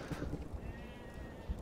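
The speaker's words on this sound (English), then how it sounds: "Aha, I killed more defenseless goats than ever." Goats bleat in the World War II dinosaur shooter Dino D-Day, a quavering cry sitting in a busy game mix with low rumbling and scattered impacts underneath.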